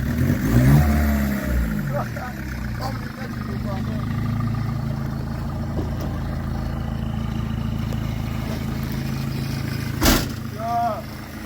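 A BMW E36 318 TDS compact diesel car revs its engine up and down, a steady low rumble running the whole time, with people talking nearby at moments over it.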